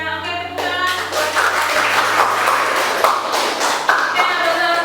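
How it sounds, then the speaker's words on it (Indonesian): Brief classroom applause from students after a group presentation, scattered clapping under a sustained hum and background voices. "Oke, tepuk tangan."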